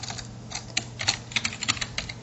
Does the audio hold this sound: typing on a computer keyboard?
yes